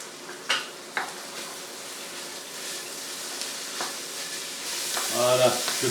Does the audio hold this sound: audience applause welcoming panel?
no